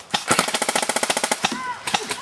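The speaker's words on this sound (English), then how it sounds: "You're shooting at your own guy over here." Rapid bursts of airsoft guns firing during an outdoor skirmish, a fast steady string of sharp pops, close and loud, with voices briefly breaking in around the shots.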